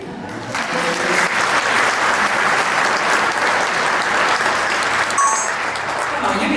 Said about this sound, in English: Can we have a big round of applause for all of our presenters?